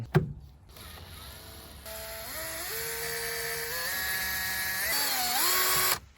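Small electric screwdriver or drill whirring steadily as it backs the screws out of the fuel filter housing on a VW Golf 7.5 1.6 TDI, with a few pitch shifts as the motor loads and unloads, close and fairly quiet.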